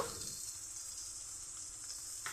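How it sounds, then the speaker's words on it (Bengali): Food frying in a pan with a little salt and turmeric, giving a steady, fairly faint hiss that runs unbroken and alone. "দিয়ে আমি ভেজে নিচ্ছি দু মিনিটের জন্য"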